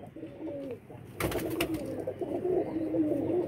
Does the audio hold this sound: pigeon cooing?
yes